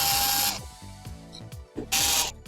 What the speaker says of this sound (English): loosen up this top screw here and then completely remove this screw here